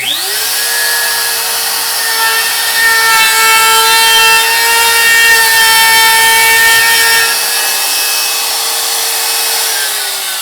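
A DeWalt DWP611 plunge router spinning at about 27,000 RPM cuts through wood, giving a loud, steady high whine with bright harmonics that holds evenly for about ten seconds with no voices.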